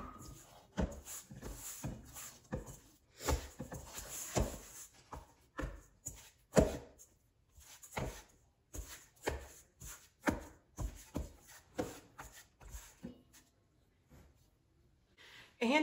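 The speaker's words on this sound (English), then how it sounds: "I'm gonna mix it with my hand. It's gonna be sticking to my hand, but gonna mix in the rest of this flour." Sourdough dough being mixed with flour by hand: soft, irregular squelching and slapping pats repeating close by, quiet with gaps between strokes.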